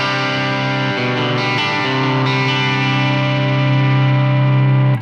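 Guitar run through compression and overdrive into a clean amp, a thick, sustained distorted chord ringing steadily for about five seconds before stopping abruptly.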